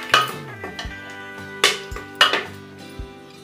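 Whole spices being toasted in a pan with browned onions, heard as several sharp metallic clanks and scrapes of a utensil against the pan, close and irregular, with a faint sizzle underneath.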